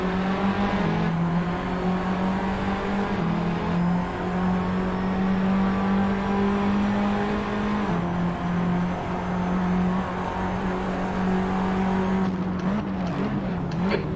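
Race car engine in the Assetto Corsa racing game, a loud sustained droning note that holds steady, dips and shifts pitch near the end as another car closes alongside, with no voices.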